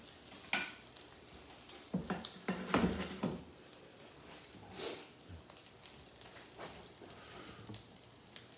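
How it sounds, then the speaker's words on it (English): A crab cake set into browning butter in a hot pan sizzles steadily, with sharper crackling bursts early on that settle into a softer frying hiss, close up with no talking. "Nice sizzle."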